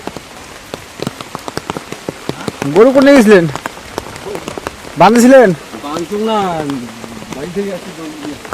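Rain patters steadily on a hard surface with close, sharp drips throughout, while people talk loudly over it.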